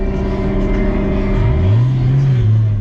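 Car fitted with a DIY foam bodykit and overfenders revs hard while drifting sideways, a loud, steady engine drone with a rising, wavering whine near the end and no talk.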